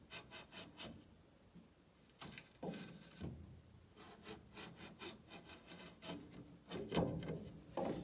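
Someone rubs down a surface by hand while working on a supercharged K20-engined Mini build, making rhythmic, close rasping strokes that repeat steadily with short pauses between bursts, and no voices.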